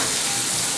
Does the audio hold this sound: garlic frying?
yes